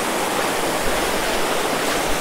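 The Kondhana caves waterfall near Karjat roars in the monsoon, a loud, continuous rush of falling water filling the scene up close with no voices.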